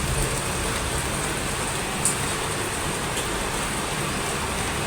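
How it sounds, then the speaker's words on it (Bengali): Rain falls steadily for the whole stretch, a constant, even wash of close hiss with no pauses and one faint tap partway through. "বৃষ্টি হচ্ছে, খুব ভালো লাগছে।"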